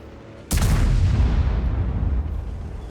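A single heavy tank cannon shot from the Object 268 Version 5 tank destroyer in World of Tanks, a sudden loud booming blast with a long rumbling tail that fades slowly, close and with no voices.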